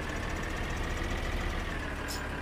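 Tractor engine idling in Farming Simulator 2013, a steady, even mechanical rumble held constant for a couple of seconds with no other sounds.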